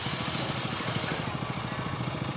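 A diesel engine on an agricultural farm truck idles smoothly, putting out a steady, close, even chugging throb for a couple of seconds with no voices.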